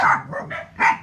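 A dog barks in quick short bursts, three or four yaps close by and fairly loud, with no talking.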